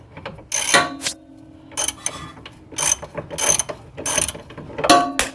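A ratchet tightening a 15 mm bolt on the rear sway bar of a 2004–2008 Pontiac Grand Prix, several loud close bursts of rapid pawl clicking separated by short pauses.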